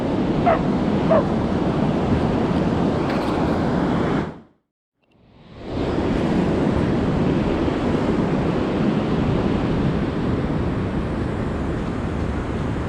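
Steady surf rolling onto a cold sea shore, broad and continuous with wind buffeting the microphone, broken by a short silent gap midway before the wash resumes.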